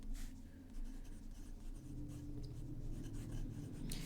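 Fountain pen nib scratching across paper in soft, continuous strokes, quiet and close, with faint low hum beneath.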